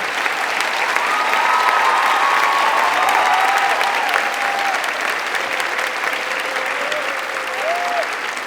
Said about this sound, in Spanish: démosle primero un gran aplauso a nuestra gran autora